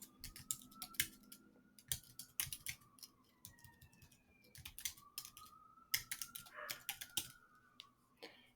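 Quick irregular keystrokes clatter on a computer keyboard nearby, bursts of sharp clicks with brief pauses, alone and fairly quiet against a soft background.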